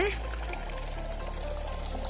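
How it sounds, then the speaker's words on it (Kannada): Water from a drinking water fountain in Baden-Baden, Germany, streams and trickles steadily, soft and close, with a faint voice briefly at the start. "ಇಲ್ಲಿ ವಾಟರ್ ಬರ್ತಾ ಇದೆ ಅಲ್ವಾ ಇದು ಕುಡಿಯೋ ನೀರು"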